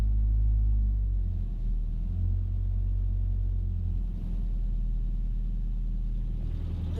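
A 1986 Mazda B2000 pickup engine runs steadily in cold weather just after starting, a loud, close, low rumbling idle that stays continuous throughout without talk.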